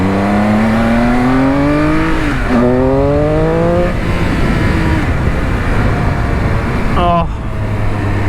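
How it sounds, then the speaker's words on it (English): A 2019 Triumph Speed Triple RS motorcycle accelerates hard, its engine note rising through several gear changes, loud and close with steady wind rush, with talking heard alongside. "Love the way this bike picks up and sounds."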